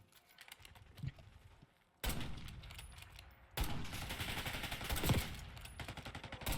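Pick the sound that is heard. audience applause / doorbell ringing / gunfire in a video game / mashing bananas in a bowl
gunfire in a video game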